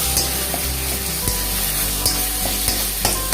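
Tomato ketchup being stirred into chicken ghugni frying in a pan, a steady close sizzle punctuated by several distinct spoon or spatula knocks and scrapes against the pan, with no voices.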